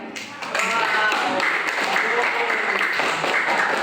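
Students in a classroom clap together for a short burst after a class presentation. The dense, fairly loud patter starts about half a second in and keeps going steadily, with faint voices mixed in.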